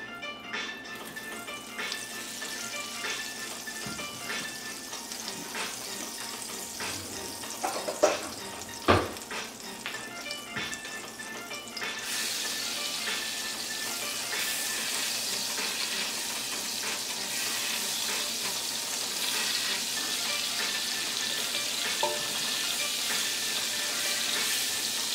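Oil and a tablespoon of butter sizzling in a pot for a beef pot roast, a steady, close hiss that swells louder midway and holds, with a few clicks and knocks early on.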